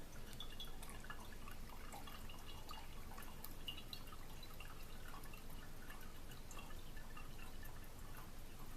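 Cold brew coffee is poured and drips through a filter, a continuous close watery patter of fine drips and trickles at an even level, with no talk.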